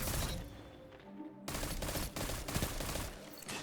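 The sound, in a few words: submachine gun firing in video game Destiny Crucible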